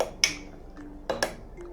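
Fruit gazpacho with passion fruit is stirred in a bowl, a utensil giving two or three quick, light clinks against the dish in an otherwise quiet moment.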